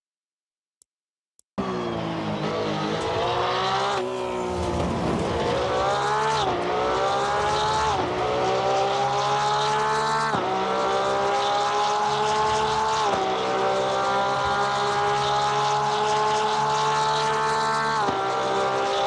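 Porsche 992 GT3 R race car lapping Suzuka in Assetto Corsa Competizione, a loud continuous engine note rising through gears with repeated upshifts and dips on braking, no talk over it.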